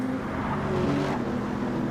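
Race car engine in a racing video game at Spa as the car brakes hard into turn 4, a steady close engine drone with no voices.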